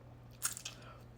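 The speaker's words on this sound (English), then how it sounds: "Let's dig in. First bite." A single crisp bite into Mi Sedap instant noodles, a short crunchy snap followed by a couple of soft squishy chewing sounds, close and quiet over a low steady hum.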